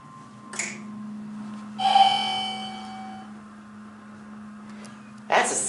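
A bright elevator chime from a Montgomery dry-powered hydraulic elevator at a JCPenney store rings out twice, several seconds apart, each tone sustaining and fading over a steady low motor hum.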